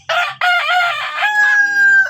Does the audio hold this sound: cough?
no